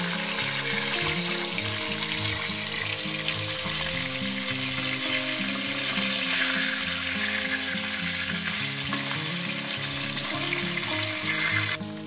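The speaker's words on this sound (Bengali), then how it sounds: "মাছগুলো আমার ভাজা হয়ে গেছে" Pieces of fish fry in hot oil in a pan, a steady, dense sizzle running loud and close throughout with no talk.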